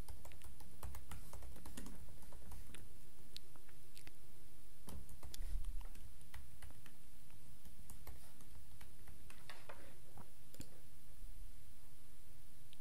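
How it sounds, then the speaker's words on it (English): A computer keyboard is typed on steadily and close by as a username and password are entered, giving irregular runs of crisp key clicks with short pauses and no voices. "type in the username and password that you use to log into your computer"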